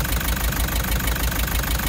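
Car engine with a cracked piston idling with a steady, loud knocking rhythm, continuous and alone without talk.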